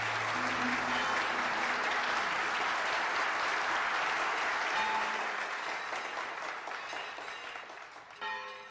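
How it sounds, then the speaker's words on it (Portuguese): Audience applause for Monsenhor Aristides: a dense, steady wash of clapping that holds for most of the stretch, then thins and fades toward the end. "Peço a todos uma salva de palmas para o Monsenhor Aristides."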